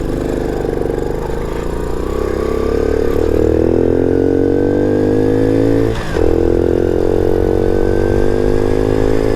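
Small Honda CT70 clone motorcycle running steadily while ridden at speed, a loud, close engine drone whose pitch climbs gradually with a brief dip around a gear shift before pulling on again.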